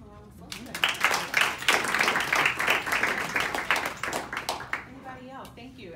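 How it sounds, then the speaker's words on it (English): An audience at a university welcome event gives a round of applause: many hands clapping steadily and fairly close for several seconds before it thins out. "Give them a round of applause."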